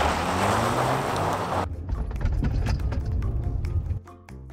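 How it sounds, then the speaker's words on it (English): Turbocharged engine of a 2020 Range Rover Evoque revving hard as its wheels spin in sand with traction control off, a loud broadband roar with wind noise easing into a lower, steadier engine rumble near the end. "once the turbo kicks in, the Evoque isn't afraid of a little wheel spin"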